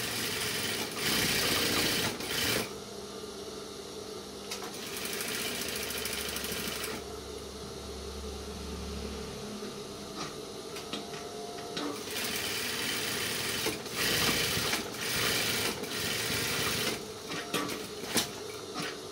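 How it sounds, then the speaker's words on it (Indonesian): Sewing machine stitching a men's trouser waistband, bursts of rapid mechanical running broken by short pauses and handling clatter across the stretch, close and moderately loud. "Nah, di sini kita jahit. Kita stick dulu."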